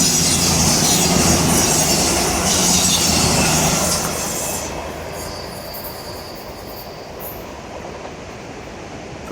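A train rumbles past in rain and 50 mph wind, loud at first with squealing wheels and rolling clatter, then fading over several seconds into wind noise as it moves away.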